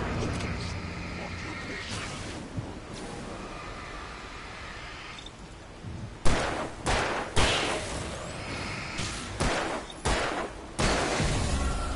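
Gunfire bursts out in Alan Wake Remastered after a stretch of dense, noisy ambience, with a string of loud sharp shots at irregular intervals over the last half.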